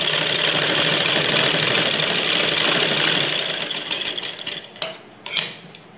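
Close, loud sewing machine stitching a ladies' blouse in one continuous rapid rattle that slows and stops, followed by a few sharp clicks and knocks as the work is handled; no voices.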